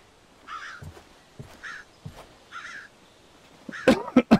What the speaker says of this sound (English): There's all sorts of birds.